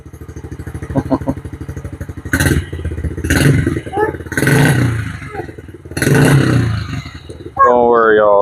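A Yamaha TTR50 dirt bike engine idles with a rapid putter, then revs loudly in repeated bursts close by, ending on a high whine.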